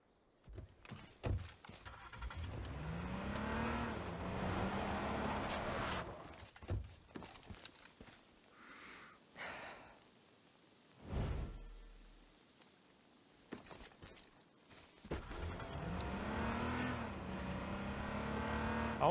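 A car engine in the video game H1Z1 drives and revs, loud and near, with surges of acceleration broken by brief drops and pauses before it picks up again, with no talking.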